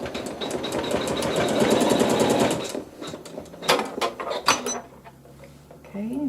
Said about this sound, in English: So let's go ahead and sew a seam.